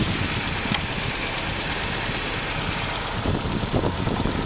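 Mercedes W201 190E running on LPG idles with its cooling fan whirring, a steady dense engine drone with faint knocking vibration, close and continuous, with no voices.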